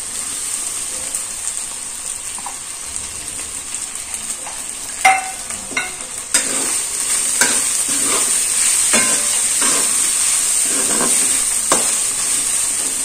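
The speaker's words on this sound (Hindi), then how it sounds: "आता भिजलेला साबुदाणा घालून घेऊया" Soaked sago pearls frying and being stirred in a pan for sabudana khichdi, a steady sizzle with repeated scraping stirs and clinks, close and fairly loud, no talking.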